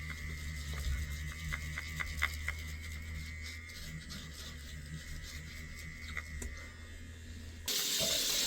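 Water runs from a tap into a sink while a facial is rinsed off, a steady close splashing flow with small irregular taps, growing louder at the very end.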